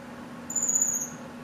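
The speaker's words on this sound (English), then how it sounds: "It's one of the parrot finches talking." A parrot finch in an indoor aviary gives a single thin, high whistled call lasting about half a second, faint over a quiet room hum.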